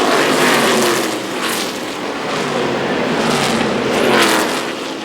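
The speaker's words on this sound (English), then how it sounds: "Metal crunch." NASCAR race cars at Iowa in a 2007 East and West combo race, a dense, loud roar of engines and broadband noise with swelling passes, and no distinct separate metal crunch standing out.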